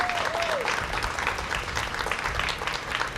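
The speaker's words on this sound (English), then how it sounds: "Let's give Brad a round of applause." A crowd at a community charity event claps steadily, a full sustained round of applause with a faint tone sliding down at the start.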